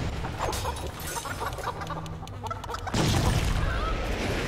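Chickens in the video game Family Guy: Back to the Multiverse cluck repeatedly amid a busy, noisy game soundscape, with a louder burst of sound near the end.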